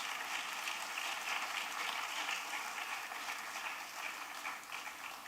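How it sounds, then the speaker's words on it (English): A large audience applauds steadily, a dense wash of clapping that holds at an even level for the whole stretch with no voices above it. "a round of applause for all of them."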